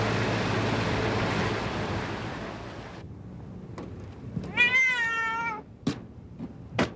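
A cat gives a clear, drawn-out meow close by during a storm evacuation, following a stretch of roaring wind and surf that suddenly cuts off, with a few sharp knocks after.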